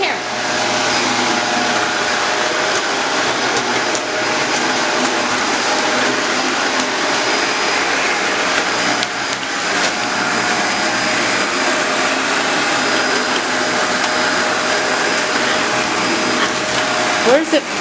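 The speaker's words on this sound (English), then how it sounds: "My daughter's doing the vacuuming. She's trying it out." A Shark Apex Duo-Clean vacuum cleaner runs loud and close with a steady, unbroken motor roar and airflow hiss the whole way through, and people talk briefly over it.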